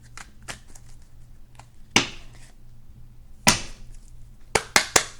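Sharp riffling bursts of tarot cards being shuffled, a few quick rasps separated by quiet gaps, close and fairly soft.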